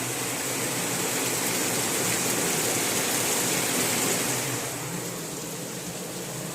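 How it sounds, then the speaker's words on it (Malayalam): Dense, steady rushing wash of heavy rain, loud and continuous, easing slightly toward the end with no voices. "മഴയാണ്"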